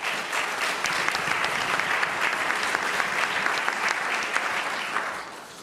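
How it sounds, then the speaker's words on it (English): Sustained applause from an audience at a mayors and business leaders breakfast, honoring Mayor Kautz; dense, steady clapping fills the room without pause and tapers slightly at the end. "So one more round of applause for Mayor Kautz."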